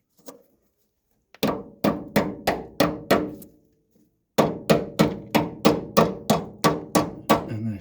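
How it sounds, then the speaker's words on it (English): Hammer taps seating a Mopar disc brake part: two runs of sharp, evenly spaced metallic knocks, about six then eight, close and loud with a pause between. "Give it a gentle tap with a hammer."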